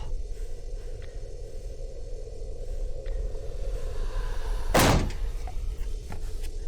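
A single loud door slam rings out in the FNaF Project Box video game, one sharp thunk standing alone over a low ambient hum with no talking.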